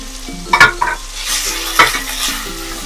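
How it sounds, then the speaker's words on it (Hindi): Finely chopped onion stirred into garlic paste frying in a pan, with a few spoon scrapes and clinks over a soft, steady sizzle close by. "अब हम इसमें ये बारीक कटा हुआ अपना अनियन मिक्स कर देंगे, डाल देंगे।"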